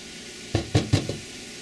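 Cauliflower fried rice is stirred in a hot pan, giving three or four quick scraping strokes over a faint background sizzle, close and brief.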